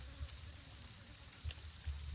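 White crickets on a cricket farm keep up a continuous high, even chirring drone, with a few soft low thumps underneath and no voices.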